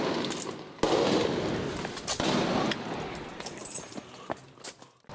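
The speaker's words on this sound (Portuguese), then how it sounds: "O silêncio da madrugada foi interrompido pelo barulho dos tiros." Sharp cracks of gunfire ring out at irregular intervals across a noisy outdoor backdrop at night, some loud and close, others fainter and distant.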